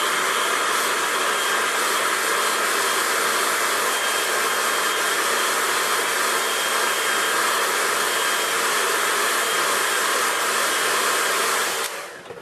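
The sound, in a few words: hair dryer drying a watercolour painting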